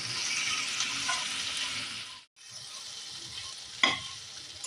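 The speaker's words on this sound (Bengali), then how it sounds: "হালকা আমি এটাকে ভাজা করব, ভাজা করে মিক্সিতে পেস্ট বানিয়ে নেব।" Spices lightly fry in a pan as a soft, continuous sizzle, with the spoon stirring, a brief quiet gap midway and a sharp utensil clink near the end.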